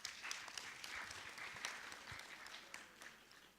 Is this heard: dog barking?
no